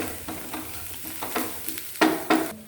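Prawns stirred while frying in a pan, a steady sizzle broken by several louder scraping, clattering strokes of the spoon, the strongest two near the end, close and clear with no talking.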